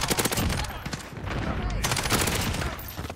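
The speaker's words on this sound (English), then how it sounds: "He's using 3-round burst." Rapid three-round burst gunfire in a Modern Warfare multiplayer match, cracking shots repeating in quick clusters throughout, loud and close amid game sound effects.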